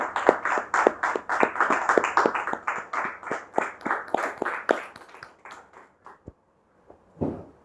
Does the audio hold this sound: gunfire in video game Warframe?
no